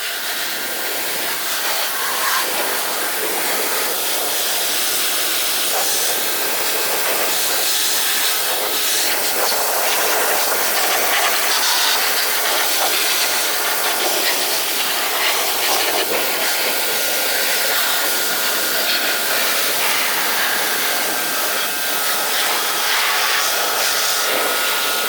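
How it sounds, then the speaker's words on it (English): A pressure jet wash sprays the engine bay of an L322 Range Rover TD6, giving a steady, loud, unbroken hiss that lasts the whole stretch with no talking. "and then we've got the jet wash set up here."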